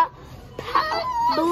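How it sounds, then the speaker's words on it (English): A chicken clucking, a few short close-up clucks and squawks rising and falling in quick succession, with no voices. "That's my chicken."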